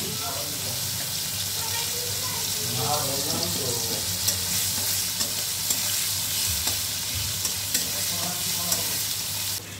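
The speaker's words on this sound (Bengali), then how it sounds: "এবার আমি কড়াইতে কালো জিরা আর কাঁচা লঙ্কা ফোড়নি দিয়ে দিচ্ছি, আর সাথে কুচিয়ে রাখা পেঁয়াজটাও দিয়ে দিলাম" Nigella seeds, green chillies and chopped onion sizzling in hot oil in a wok, a steady close hiss with occasional stirring scrapes and knocks, a faint voice briefly audible underneath.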